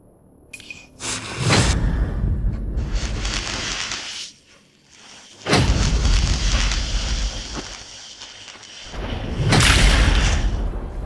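Bursts of booming, crackling blasts come in waves with short pauses between, like fireworks going off in a game.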